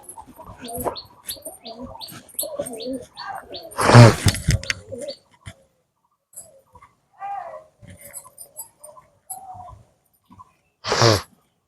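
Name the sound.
pigeons cooing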